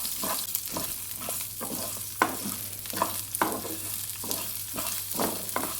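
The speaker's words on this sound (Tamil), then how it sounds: "ஒரு வெங்காயம் கட் பண்ணி வச்சுருக்கேன், அதையும் சேர்த்து இதோடைய வதக்கிக்கலாம்." Garlic and onion sauté with masala in a pan over low flame, with a steady sizzle under repeated scraping strokes of a spoon that keep a loose, uneven rhythm.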